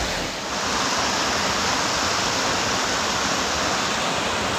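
Steady, loud rush of river water at a hidden spot near Anaikatti, with no breaks and no voices.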